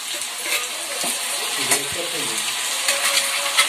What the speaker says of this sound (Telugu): ఇవి బాగా ఫ్రై అవ్వాలి.